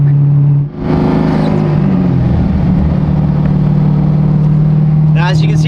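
A car engine runs loud and close, a dense droning roar that shifts pitch as it revs and holds steady for several seconds.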